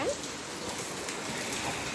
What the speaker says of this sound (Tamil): பார்த்தீங்களா எவ்வளோ பெரிய மழைன்னு பாருங்க